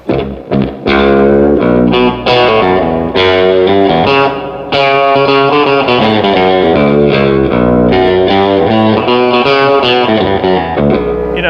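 Baritone electric guitar, a custom Telecaster, playing low chords and melody, drenched in heavy reverb and effects, sustained and loud with no voices.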